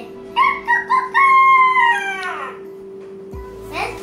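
A rooster crows once, loud and close, with a clear rising and falling call that trails off, followed by a faint rustle; no voices are heard.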